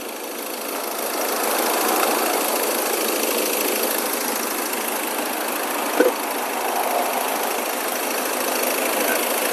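A 2016 Mazda BT-50 Pro 2.2 Hi-Racer pickup engine idling, a loud steady even rumble with a faint tick partway through, heard up close with no talk over it.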